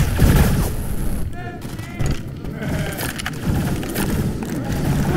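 Teammates' gunfire in Left 4 Dead 2 crackles in quick bursts and rapid volleys against chaotic zombie-fight noise, close and loud, with voices over it.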